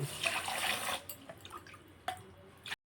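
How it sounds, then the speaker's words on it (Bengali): Paradise rice for a mutton handi being rinsed in water: sloshing and swishing, then a few faint drips and splashes, quiet and close, ending abruptly. "এখন প্যারাডাইসের চালটা ধুয়ে নিচ্ছে"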